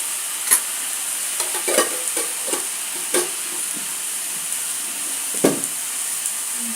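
Prawns and ash gourd frying in a pan with salt and turmeric, a steady close sizzle broken by several sharp scraping clicks of a spatula, no talking.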